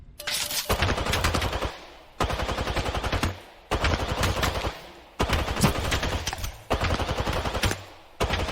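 Suppressed automatic fire from a makeshift turret copying the active weapon in Apex Legends, loud and close, coming in four long bursts separated by short gaps.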